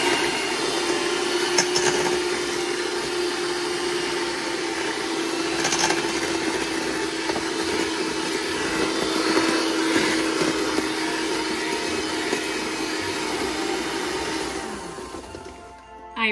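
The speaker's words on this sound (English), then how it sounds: "we're going to go ahead and whip them until they're nice and light" Electric mixer whipping eggs with vanilla bean extract in a bowl, a steady loud whirring drone with a faint tonal hum, running continuously without pause and alone, with no talk over it, until it cuts off at the end.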